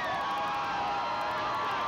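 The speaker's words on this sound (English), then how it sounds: "they have jammed in here tonight, the second largest crowd in this stadium's glorious history" A packed stadium crowd at an LSU versus Texas A&M football game roars in a dense, sustained wall of cheering and shouting, loud and unbroken throughout.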